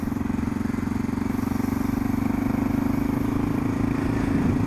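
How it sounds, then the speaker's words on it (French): A motorcycle engine runs steadily throughout on an autumn ride, a loud continuous drone with a strong low hum and wind rush, holding an even pace without clear revving. "c'est la bonne excuse pour pouvoir faire de la moto"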